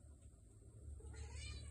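A house cat meows indoors, a short faint call rising near the end over quiet room hum.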